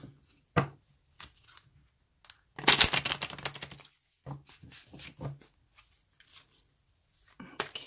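Bursts of riffling tarot card shuffles, close and crisp, with a long dense flurry in the middle and shorter flicks and taps around it.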